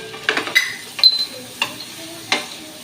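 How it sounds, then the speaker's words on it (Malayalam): Chopped tomatoes sauté in a pan for butter chicken while a spoon stirs them, giving close, irregular scraping and clinking strokes over a faint sizzle, with no voices. "പിന്നെ തക്കാളി അതും കൂടെ ഇട്ട് നല്ലപോലെ വഴറ്റി നമ്മൾ"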